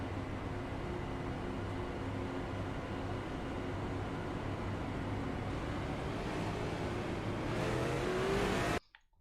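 Onboard a race car at the ITZR Riverwood event, the engine holds a steady droning note through a rolling start, tone shifting slightly near the end before cutting off abruptly.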